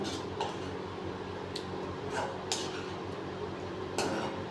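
A utensil scrapes and clinks against a pan while cooked bottle gourd is moved into curd for a chutney, giving faint, irregular metallic taps and scrapes over a low kitchen hum with no talk.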